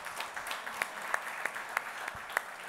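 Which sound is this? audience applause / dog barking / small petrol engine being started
audience applause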